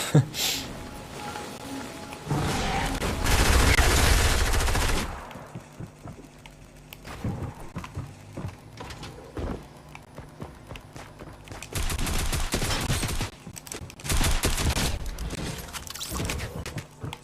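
Gunfire in Fortnite: bursts of rapid shots come in loud clusters, with a long barrage early on and more volleys later, separated by quieter stretches.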